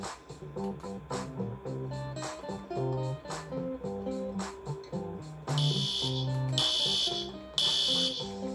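A school fire alarm sounds with a repeating pulsing tone, joined partway through by a shrill high-pitched ringing, loud and continuous.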